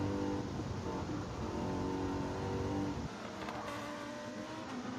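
Mercedes race car engine in Gran Turismo 7 or Forza Motorsport, a sustained revving drone with steady harmonics that drops abruptly to a lower pitch midway, quiet and without talk.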